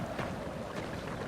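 River water in the video game White Noise gives a soft, steady rushing wash with faint airy turbulence, quiet and unbroken for just over a second, with no voices.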